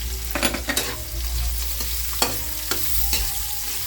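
Chopped onion with ginger sautéing in a pan of oil for tutsung bangus, a milkfish dish: a steady close sizzle broken by several sharp scrapes and clacks of stirring, with no talk.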